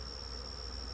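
Honeybees returning to the hive at dusk hum in a steady, dense swarm drone with a constant high whine over it, with no voices present.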